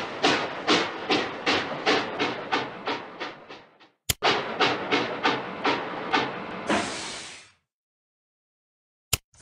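An animated steam train chugs along in a steady run of rhythmic puffs that slow down, then a long hiss of steam and a sharp click or two before quiet.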